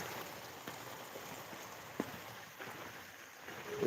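Heavy rain falling in Hemayetpur, a constant faint hiss of downpour with scattered louder drips and taps on nearby surfaces, heard from a short distance without voices.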